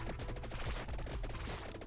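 Automatic weapons in the Vampire Survivors video game fire continuously, a dense, quiet stream of rapid overlapping pops and clatters under busy game effects.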